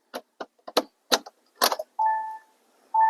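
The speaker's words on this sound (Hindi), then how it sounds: "एक बार की इंसर्ट करते हैं" A key goes into the ignition of a Kia Seltos HTE O base model with a quick run of sharp metallic clicks, followed by two clear electronic chime tones.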